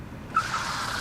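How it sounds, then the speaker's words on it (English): Video game car skidding into a player character, a short tire screech that starts abruptly and holds steady, loud and close, with no talk. "Oh, man, I got hit by a car."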